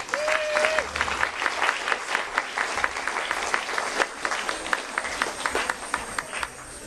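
An audience claps and applauds a welcome for intermediate belly dancers from Rugby and Northampton, sustained dense clapping from a crowd with a brief high tone at the start.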